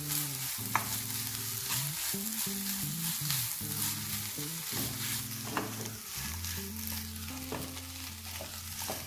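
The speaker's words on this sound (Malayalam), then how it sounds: "ഈ ചിക്കൻ ഇതിലേക്ക് ആഡ് ചെയ്ത് കൊടുക്കുക. എന്നിട്ടൊരു 5 മിനിറ്റ് നന്നായി ഇളക്കി യോജിപ്പിക്കാം." Chicken pieces fry in a pan with ground masala, a steady sizzle under repeated scraping and stirring strokes, with a low background hum throughout.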